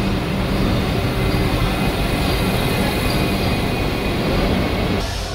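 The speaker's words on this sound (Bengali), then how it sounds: "ঠিক সেই সময় আমাদের সাথে দেখা হয়ে গেল বর্তমানে ভারতবাসীর স্বপ্নের ট্রেন বন্দে ভারত এক্সপ্রেসের" A Vande Bharat Express passing a platform at Kharagpur station, heard as a loud, continuous rolling roar of rail traffic that holds steady and then cuts off abruptly near the end.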